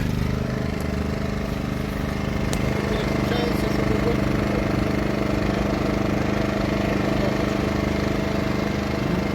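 Genergy Limited 1500i petrol inverter generator running, a steady close, even engine drone with a low hum held throughout, the sound alone.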